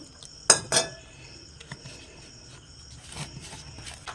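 A spoon mixes gram flour with water into a thick pakora batter, with two bright clinks against the bowl followed by softer, intermittent scraping and stirring nearby.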